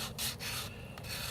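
Sandpaper of about 240 grit rasps back and forth on a wooden guitar neck in short, rhythmic hand strokes, a soft close-up scratching with no voices.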